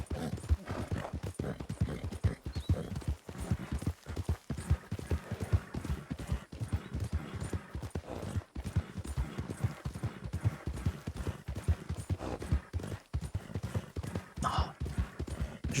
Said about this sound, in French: j'entendais un autre cheval